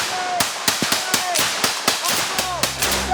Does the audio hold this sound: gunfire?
yes